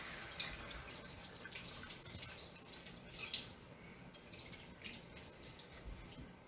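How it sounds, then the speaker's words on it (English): Coconut milk and water poured into a cooking pot give a faint, steady trickle and drip of liquid throughout, with small splashes and no talking. "Pour the milk, pour the water."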